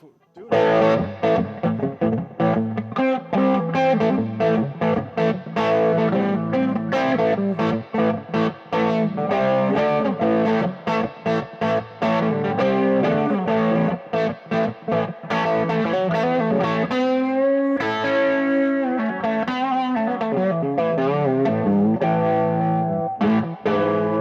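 Distorted electric guitar playing through a modded 1974 Fender Deluxe Reverb Silverface amp, with notes bending upward in pitch; loud and continuous, with no talking.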